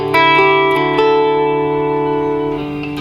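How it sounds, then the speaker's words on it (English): Electric guitar in a worship rig, played dry with just a touch of amp reverb: a few picked notes ring into one sustained chord that holds clear and loud for about three seconds, then fades slightly. "So I just have a little bit of reverb on the amp if you hear that."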